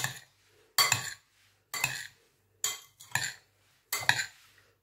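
A spoon clinks against a pot while salt is stirred into mussels, giving five short scraping, clinking bursts separated by brief pauses, close and clear with no talk.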